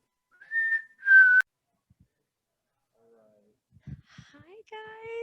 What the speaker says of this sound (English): Love the whistling.